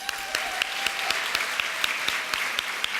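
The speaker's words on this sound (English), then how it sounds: "Let's give another round of applause for Haley and Michaels." Audience applause at a charity gala evening, a steady wash of many hands clapping with sharp individual claps standing out, moderately loud and continuous throughout.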